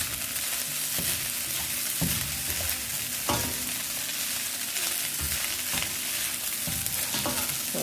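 Shrimp fried rice with garlic powder stirred in a hot pan for Chinese-style Jamaican shrimp fry rice, a steady close sizzle with repeated scraping strokes of the utensil at an irregular rhythm.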